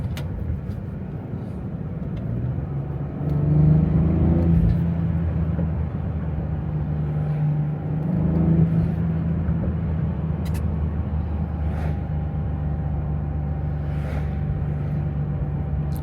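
BMW 340i xDrive with a 400 hp engine, driven in sport mode: a steady low engine drone fills the cabin throughout, swelling briefly twice as the revs climb, with no talking.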